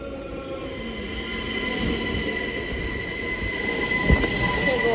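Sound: train arriving at a station in Austria

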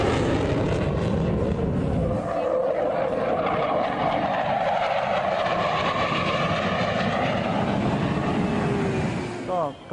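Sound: fighter jets flying overhead

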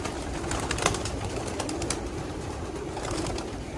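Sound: pigeons cooing at a pigeon racing test loft

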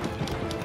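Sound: horse galloping in the video game Shadow of the Colossus

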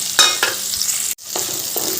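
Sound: chopped tomatoes added to frying potatoes and stirred

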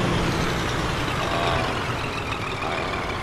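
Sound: truck reversing in Euro Truck Simulator 2 video game

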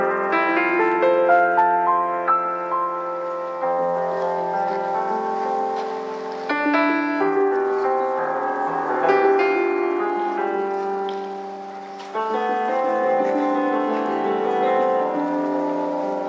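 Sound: electric piano playing

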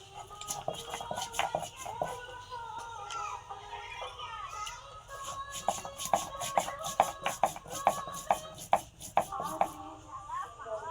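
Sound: grinding ginger and cumin into spice paste

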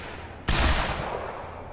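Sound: shotgun gunfire in video game Quantum Break

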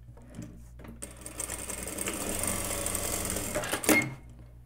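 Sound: sewing machine stitching interfaced jeans waistband pieces

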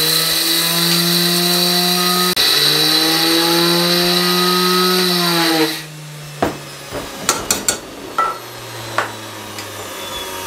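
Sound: electric spice grinder jar grinding spices into powder

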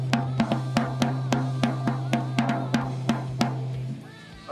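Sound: drum tuned for a jazz setup being hit

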